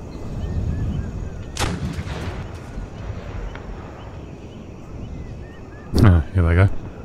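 Heavy artillery fire in the video game Empire: Total War during a 1711 siege of Lahore, with sharp booming cannon shots over a constant battle rumble and a louder pair of blasts near the end; someone talks over it.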